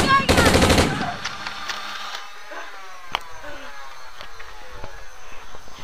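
A turret-mounted machine gun fires a loud, close burst of rapid shots lasting under a second, then fades to quiet ambience with a few faint clicks in a zombie-attack backyard scene.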